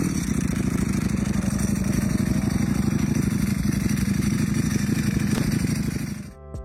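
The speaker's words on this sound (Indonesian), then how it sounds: "Misalnya kalau mesinnya V4 Ducati suaranya kayak mesin jahit." A Ducati V4 motorcycle engine runs steadily at close range with a dense, rapid mechanical chatter, holding a constant loud note for about six seconds before cutting off abruptly.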